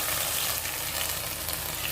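A besan mixture for karela kadhi hits hot oil in a pan and sizzles steadily, a dense, close frying hiss lasting throughout.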